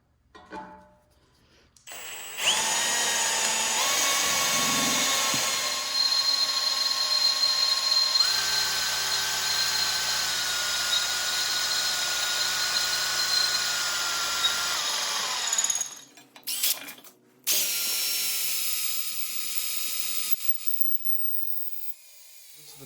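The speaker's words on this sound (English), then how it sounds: "we're just gonna drill these out real quick" Power drill boring holes through a weighted steel table leg bar for a kitchen island frame, a sustained high whine that shifts pitch as it bites, with brief pauses and restarts near the end.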